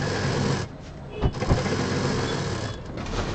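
Sewing machine stitching the border of a large fabric bag, a steady close mechanical whir that briefly dips and resumes, with a couple of soft knocks in between.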